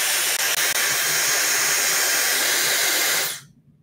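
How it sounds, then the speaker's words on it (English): A quiet blow dryer blows a steady, even airy hiss at close range for about three seconds, then switches off and the room falls silent. "this is one of the quietest blow dryers"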